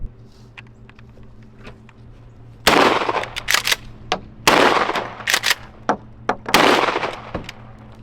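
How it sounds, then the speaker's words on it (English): Shotgun fired outdoors in the countryside: three loud, sharp blasts spaced a couple of seconds apart, each with a booming echo, alongside smaller nearby clicks and knocks. "Got my shotgun right here."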